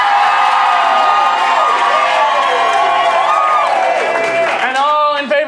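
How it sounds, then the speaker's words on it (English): A live stage-show crowd cheers, shouts and claps loudly to cast a vote, with excited voices and children's shouts blending into one continuous roar that tapers near the end. "you're going to vote by round of applause"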